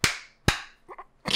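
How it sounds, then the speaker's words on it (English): Two sharp, loud hand claps about half a second apart, close by, followed by a brief murmur and the start of a third clap. "Do the clap thing."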